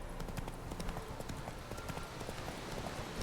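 Hooves of Roach, a horse in the video game The Witcher 3, clip-clop at a steady rapid gait, dense and continuous at moderate volume.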